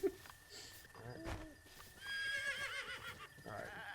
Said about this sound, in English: Called my horse over because I thought they were going to run away further.